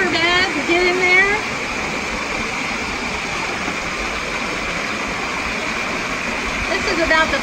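La Soplaera Falls in the rain pours as a steady, broad rush of falling water heard close by, with someone talking briefly over it at the start and end.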